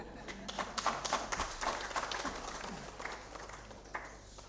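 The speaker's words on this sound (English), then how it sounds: "A bigger round of applause for that passionate delivery from the LC5 chairperson" Audience applause after a speech by an LC5 chairperson at a Karamoja food security and nutrition event, with a crowd clapping steadily and moderately loud throughout.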